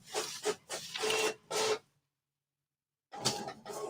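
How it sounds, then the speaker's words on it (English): Home printer printing in bursts of whirring, clattering mechanical passes, close and fairly loud, stopping for about a second before starting up again. "my printer is going off, so I apologize for that"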